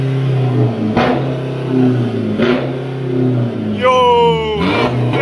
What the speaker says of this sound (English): this is how the exhaust sounds like from the 520D